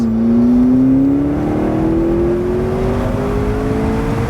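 A car engine revs steadily upward as the vehicle accelerates, a loud, smooth rising drone heard close from inside with no talking, on a road drive.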